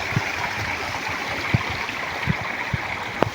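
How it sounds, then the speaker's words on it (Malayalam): Stream water flows over rocks at Vellarimedu waterfalls during the monsoon, a steady close rush with soft gurgles and occasional low splashes. "ഈ വെള്ളത്തിൻ്റെ ഒഴുക്കിൻ്റെ സൗണ്ട് ഉണ്ടല്ലോ"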